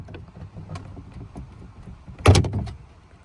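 Plastic trim on a Honda Odyssey sliding door is pried back with needle nose pliers, giving soft scraping and rubbing with small ticks, then a sharp loud pop and clack as the piece lets go near the end.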